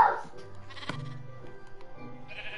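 A sheep in the Minecraft video game gives a few short, wavering bleats, fairly close and clear, with faint background sounds and no talk.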